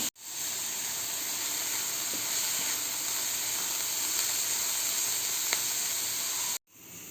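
Cabbage poriyal cooks in a covered pan, giving a steady, soft sizzling hiss that runs unbroken for several seconds before cutting off abruptly.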